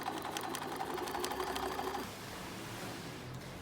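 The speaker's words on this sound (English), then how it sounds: "just sew along the inner part of your leg pants" Sewing machine stitching the inner leg seam of checkered skater pants, a steady close whirring run for about two seconds that then stops, leaving quiet room noise.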